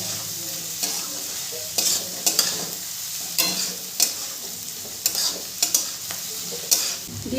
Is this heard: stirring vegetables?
yes